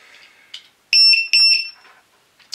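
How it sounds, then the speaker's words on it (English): A loud, piercing electronic buzzer sounds in two close bursts, each with a short rapid beeping pulse, nearby and harsh against near silence. "We need to have a buzzer on this"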